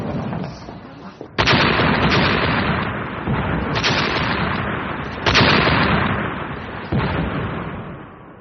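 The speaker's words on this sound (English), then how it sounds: "Oh, fireworks!" Fireworks in a radio drama set in London on the eve of the First World War: loud booming bursts, with sharp reports near 1.4, 3.8, 5.3 and 6.9 seconds, over a continuous crackling roar that barely fades between blasts.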